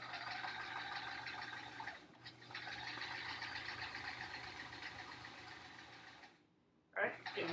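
A sewing machine stitches hourglass quilt block pieces together, a steady close whirring hum running through most of the stretch, briefly pausing partway and stopping near the end before starting again.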